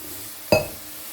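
A metal stand set down into a pan of water on the stove for steaming katla fish, giving a single sharp metallic clink followed by a short ringing decay.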